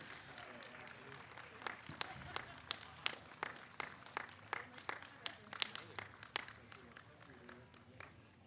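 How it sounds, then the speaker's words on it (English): Scattered clapping and cheering from a crowd at an outdoor Relay for Life event honoring cancer survivors, with a steady murmur of voices under a run of sharp, distinct claps that builds and then thins toward the end. "let's give a round of applause and keep on cheering for our 2016 cancer survivors"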